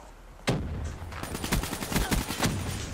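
Rapid gunfire rings out in the Black Ops 3 beta video game, a loud opening shot followed by bursts of close automatic fire in quick succession.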